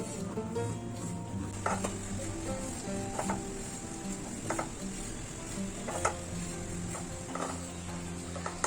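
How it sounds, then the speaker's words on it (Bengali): Gram flour (besan) frying in ghee while it is stirred, a steady low sizzle under soft scraping strokes that recur every second or so, close by with no talk. "এবার আমি বেসনটাকে ঘিয়ের সঙ্গে ভালো করে মিশিয়ে নিচ্ছি আর বেসনটাকে আমি লাল লাল করে ভেজে নেবো"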